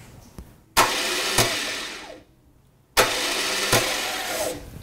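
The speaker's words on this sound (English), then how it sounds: "Starter's working" Starter motor cranking on a Moto Guzzi 850 T3 motorcycle after a full rewire, two steady bursts of close, loud whirring, each cut off abruptly with a short pause between them.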